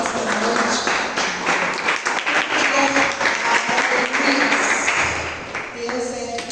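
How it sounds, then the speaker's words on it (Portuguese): A church congregation applauds the Lord during an evening service, a steady wash of clapping filling the room for several seconds while voices and talk carry over it. "Pode tomar o seu assento, aplaudindo ao Senhor nesta noite."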